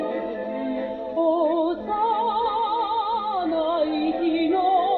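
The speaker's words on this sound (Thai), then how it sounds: "ลำโพงในตัวเสียงจะดังประมาณนี้" Tinny music plays from the small built-in speaker of a Toshiba KT-290 cassette player, with a wavering melody over thin, band-limited sound and no talking.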